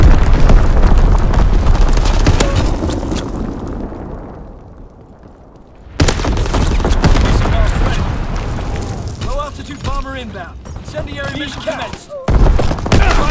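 Bomb explosions and gunfire in the Call of Duty WW2 game, with heavy booms and rattling shots, a brief lull, then another blast and continued firing, with game voice callouts mixed in.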